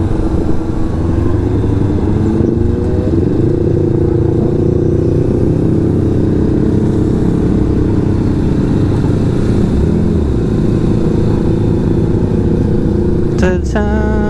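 A motorcycle rides at Clark International Speedway during an endurance race event, its engine droning loud and steady close up, with a shift in pitch early on and a brief clatter near the end.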